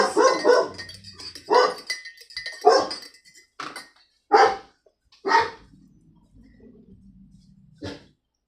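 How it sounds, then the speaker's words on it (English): A dog barks repeatedly nearby, about eight loud barks in uneven bursts with short pauses, ending after a brief quiet stretch. "Why is he barking?"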